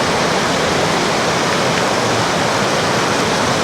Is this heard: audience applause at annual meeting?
no